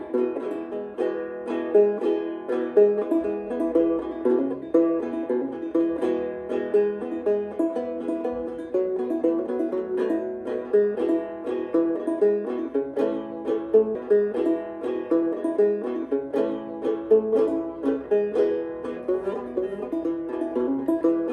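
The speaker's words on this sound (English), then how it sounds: "in old time music on the banjo, you just use 1 finger and a thumb" Banjo played old-time style with one finger and thumb, plucked and strummed in a steady, bouncy rhythm, played alone and up close for a sustained stretch.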